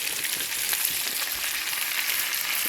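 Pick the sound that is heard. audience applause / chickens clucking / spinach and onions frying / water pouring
spinach and onions frying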